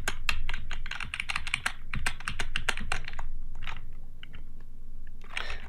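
Fingers typing on a computer keyboard, rapid close clacking keystrokes in quick bursts, then a pause and a few scattered taps with a final short flurry, loud and alone.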